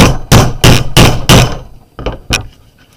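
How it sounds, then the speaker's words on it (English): Hard, sharp whacks of a hammer flatten the curved end of a piece for a junk journal, five loud evenly spaced strikes followed by a few lighter taps, close and dry with no talk. "whack it, and it's going to go flat."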